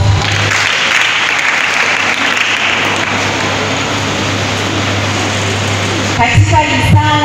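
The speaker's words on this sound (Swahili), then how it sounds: "Jipigieni makofi." A graduation audience at a form-four ceremony in Dar es Salaam breaks into sustained, loud applause, a dense wash of clapping that runs throughout before a voice starts speaking near the end.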